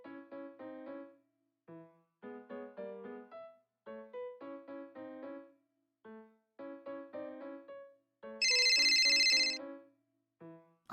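A phone ringtone plays in short repeated melodic bursts with brief pauses between them, clean and clear, then a shrill electronic ring cuts in near the end.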